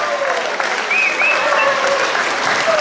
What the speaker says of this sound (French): Applaudissements pour tout ce monde et Jean-Albert Bouchard.